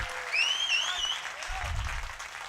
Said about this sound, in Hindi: फिर जितने लोग समझे ताली बजाएं।